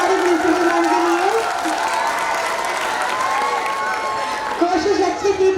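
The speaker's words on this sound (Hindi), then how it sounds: "एक बार जोरदार तालियां हमारी प्रिंसिपल मैम के लिए।" Audience applause and cheering at a school annual day function, a busy crowd roar with children's shouts, while an amplified voice speaks over it at the start and again near the end.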